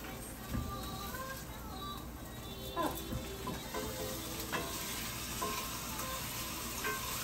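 Steak frying in a pan, a steady close sizzle with occasional stirring or shifting clicks, faint background sounds and little talk.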